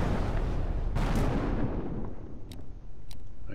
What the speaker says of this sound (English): One of the enemy ships has been destroyed